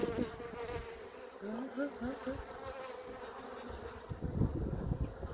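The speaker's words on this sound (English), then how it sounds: "all of a sudden there'll be 20 bees bringing pollen" Honeybees buzz close by at a hive entrance in Montana with a wavering hum, several bees droning and passing at once, with a faint background hiss.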